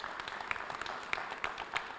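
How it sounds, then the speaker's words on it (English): At a summer school graduation in 2022, an audience offers a round of applause that is fairly soft and steady, with distinct individual claps popping out of the continuous patter. "Could you please give them a round of applause for being here to support you today?"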